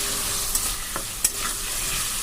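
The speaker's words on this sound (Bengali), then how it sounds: "হাই ফ্লেমে রেখে কিন্তু আমি আলুটাকে ভাজছি।" Potatoes with salt and turmeric frying over a high flame give a steady, close sizzle, with a couple of sharp stirring clicks and scrapes.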